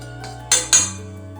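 A metal cooking pot set down on a gas stove in a home kitchen, giving two sharp clinks in quick succession over a low steady hum.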